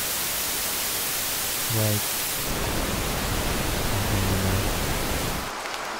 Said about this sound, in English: White noise or dark noise.